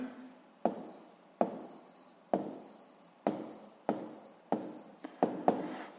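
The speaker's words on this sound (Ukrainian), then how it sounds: "Записуємо обчислення." Pen scratching out physics calculations by hand on paper, a series of about nine quick strokes, each starting with a sharp tap and trailing off, close and quiet.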